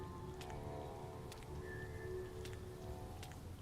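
Rain in the video game Rain World, a faint steady patter of falling drops with a few soft, scattered clicks and a low hum beneath.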